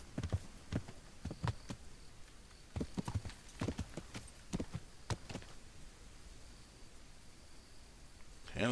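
Horse hooves clip-clop in Kingdom Come Deliverance, a series of irregular, fairly faint steps over a quiet outdoor ambience, fading toward the end.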